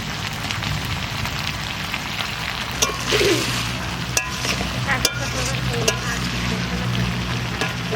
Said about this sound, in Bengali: প্রথম মাংসটা একটু কষাইলাম, তারপরে আবার জল দিলাম, আবার এই দেখেন কষানোর মতন হয়েছে